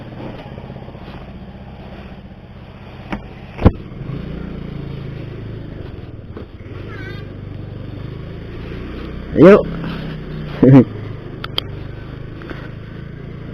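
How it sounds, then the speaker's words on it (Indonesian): A Honda Beat scooter-style motorcycle idles and rolls along with a low, steady engine drone, while a rider speaks briefly over it and sharp clicks and knocks come close by. "ini sudah saatnya riding menggunakan motor Beat ini"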